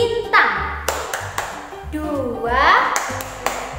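Several sharp hand claps land in a loose rhythm, mixed with first-grade children's voices chanting and talking close by in an Indonesian classroom clapping game.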